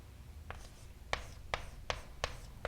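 Someone writes out a calculus formula in short scratchy strokes, about five distinct marks spaced irregularly, quiet and close in an otherwise still room.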